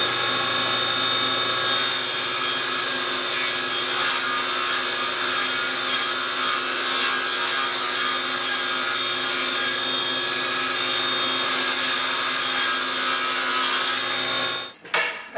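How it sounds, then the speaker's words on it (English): A hand saw rips lengthwise through a wooden shelf-pin jig piece in a steady, continuous rasping rhythm, loud and close, with the stroke pattern holding for about fifteen seconds before stopping abruptly. "Now that I've got all the holes drilled, I can finish ripping the piece."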